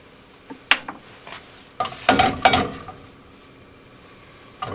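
Olive oil and butter sizzle and crackle in a hot pan, with a few sharp clinks of utensils and a louder burst of spattering midway, close and without talk.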